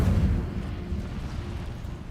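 The Incendio fire spell cast in Hogwarts Legacy lets out a low, rumbling burst of flame that starts loud and settles into a steady roar, alone for about two seconds.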